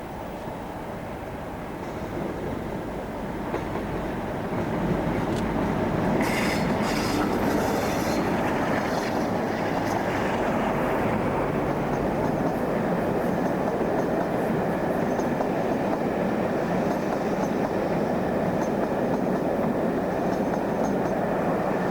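A diesel freight train on the Lindsay to Langley fuel oil service rumbles past, swelling loud after a few seconds into a sustained roar of wagons with rhythmic wheel clatter and brief metallic squeals, no talk.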